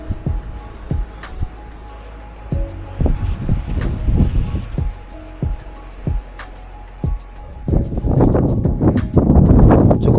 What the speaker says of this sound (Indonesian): angin masih tetap saja kencang